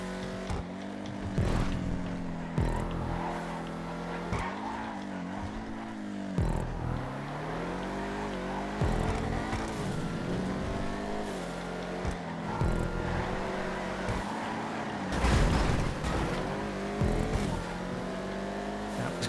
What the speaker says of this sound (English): It's going so fast with this car. 150, 160 miles an hour nearly at the top end.